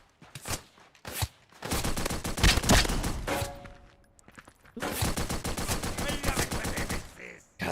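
Bursts of rapid submachine gun fire in a video game, loud close-range volleys of quick automatic shots separated by short pauses, with a faint voice briefly audible between strings of fire.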